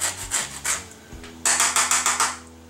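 Citrus zest grated off fruit for a cauliflower and pecan casserole: a few scattered rasping strokes, then a steady run of six or seven quick, close scrapes on the grater, with no talking.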